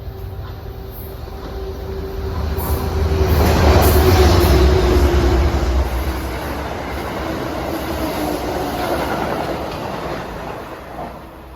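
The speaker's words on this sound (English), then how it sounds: "Amtrak 239 en route from New York Penn to Albany Rensselaer." An Amtrak train, number 239 bound from New York Penn to Albany-Rensselaer on the Hudson line, rumbles past with a loud swell peaking midway, steady wheel clatter and a faint tonal whine, then a gradual fade.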